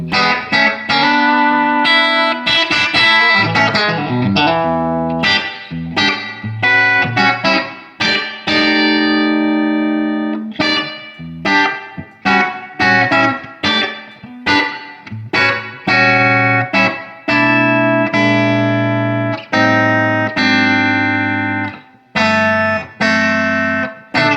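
A heavily distorted electric guitar through a Wren and Cuff White Elk fuzz pedal on the bridge pickup, thick saturated fuzz tone, plays chords and riffs with sharp stops, loud and up close, no voices.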